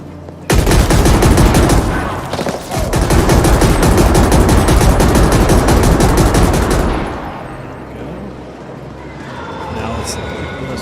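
Rapid automatic turret gunfire in the sci-fi shooter game The Ascent, a loud dense fusillade of shots hammering steadily for several seconds, briefly dipping once, then cutting off into quieter ambience, with someone talking over it.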